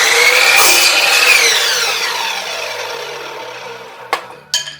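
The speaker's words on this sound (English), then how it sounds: "this saw works well on small pieces of wood as well" A Chicago Electric 10-inch miter saw slices through a small piece of wood about three-quarters of an inch thick: a loud, high motor whine peaks during the cut and then winds down, followed by two sharp knocks.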